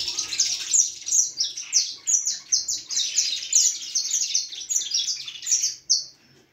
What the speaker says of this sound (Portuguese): Canários ficam doidos, galera.